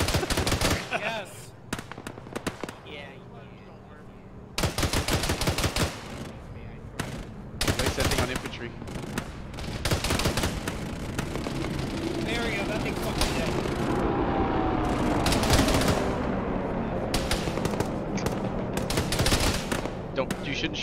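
Machine gun fire in an Arma video game, heard as repeated loud rattling bursts separated by short pauses, then a longer sustained stretch of firing, with people talking over the gunfire.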